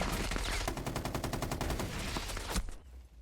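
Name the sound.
enemy gunfire in a video game (Rainbow Six Siege)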